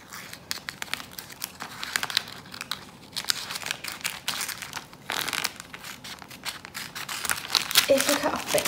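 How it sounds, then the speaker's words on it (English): Quiet snipping and crinkling of scissors cutting through card, several close cuts in an uneven rhythm with faint paper rustling. "take my scissors again and just gently cut in one side of the border"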